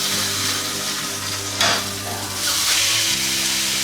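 A roast sears steadily in a hot pan, a continuous loud sizzle with a brief flare of spitting as the meat is flipped over, then frying settles back in; no voices.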